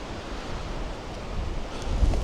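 Wind blows on a hill above a beachfront, a steady rushing buffet on the microphone that swells slightly toward the end, with no voices.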